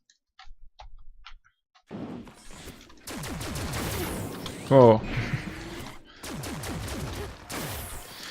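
Rapid bursts of gunfire in the video game Cloudbuilt crackle in quick succession, mixed with other electronic game effects and a brief spoken exclamation.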